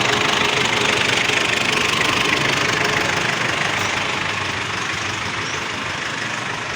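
A Ford Everest's 2.5 diesel engine idles with a steady, close, rough clatter, running continuously and unchanging throughout.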